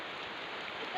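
Steady rain falling, a dense even hiss filling the whole second with no clear individual drops, continuous and moderately close.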